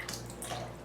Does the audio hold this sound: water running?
yes